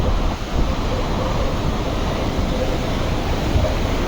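River water in a Himalayan meadow (bugyal) on the Milam road route, a loud, steady rushing flow that holds constant throughout with no clear voices over it.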